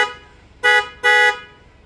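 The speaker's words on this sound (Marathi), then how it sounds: "मस्त हॉर्न वाजतोय" A newly fitted horn on a Tata Motors vehicle sounds twice in quick succession, two loud, bright honks close by, each about a quarter second long.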